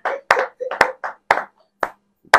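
Several sharp hand claps in an irregular burst, close and fairly loud, with short silent gaps between them, from people at a Ghanaian senior high school setting, no talk over them.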